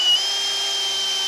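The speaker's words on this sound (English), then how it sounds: "We have our drywall screw and we're going to go into the stud." Dewalt 20V drywall screw gun driving a drywall screw through sheetrock into a stud, a steady high-pitched motor whine holding constant at close range for just over a second, with no voices.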